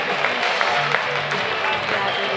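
A crowd at a junior livestock show's swine judging claps for a class winner, a moderate spread of applause under an announcer's amplified voice and crowd chatter.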